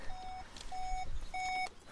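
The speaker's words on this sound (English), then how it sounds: "I'll just turn that ignition off to stop the beeping" Volkswagen Tiguan R-Line TDI 4Motion DSG ignition warning chime, three steady electronic beeps at an even pace, each about a third of a second long, clear and close inside the cabin.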